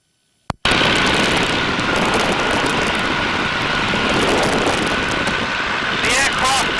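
Tiger Moth biplane engine in flight, a loud continuous drone held steady throughout, with a brief click just before it starts and some voice talk mixed in.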